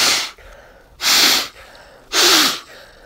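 Three forceful nose blows, each a loud breathy burst lasting about half a second, with a squeaky whistling tone rising through the last one; short quiet gaps separate them and no one speaks.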